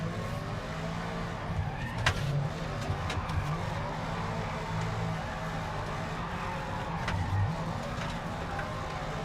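Simulated car engine held at full throttle while cornering in the BeamNG driving game, a steady loud drone with faint tire squeal and brief transient clicks throughout.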